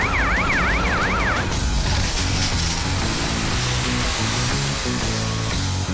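A cartoon fire engine siren wails loudly and close, rising and falling in quick sweeps for about a second and a half. A busy animated soundtrack of engine noise and music follows.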